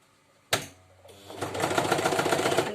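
A sewing machine sews forward along a skirt seam: a sharp click, a short whir, then a steady, close, rapid stitching rhythm builds and continues to the end.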